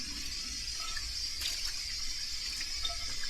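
A weak trickle of water runs from a kitchen faucet, a steady thin hiss with no voices over it.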